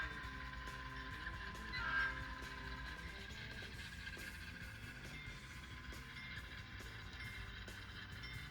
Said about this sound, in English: Norfolk Southern Coal Train number 712 gets underway after a crew change.